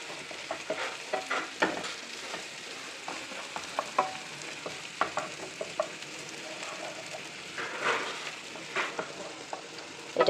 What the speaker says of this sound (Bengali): এই যে আমি জিরা দিচ্ছি।